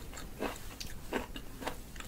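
Soft, close biting and chewing sounds, three or four crunchy chomps at a steady pace, quiet and recorded intimately with no talking.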